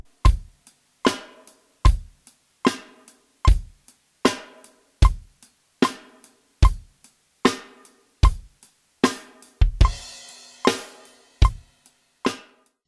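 A basic beginner drum beat played on a drum kit: steady, evenly spaced kick and snare hits with cymbal wash, repeating in a regular rhythm, close and clear with no voices.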